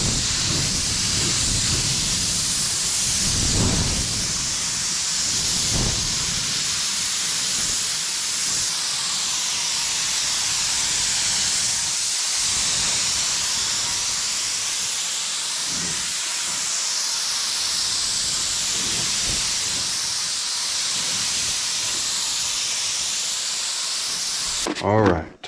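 A spray gun lays a second coat of paint on an OBS Chevy truck in a DIY paint job, a loud continuous hiss lasting nearly the whole time, with low thumps and some voices underneath.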